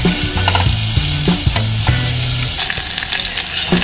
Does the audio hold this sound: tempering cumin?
yes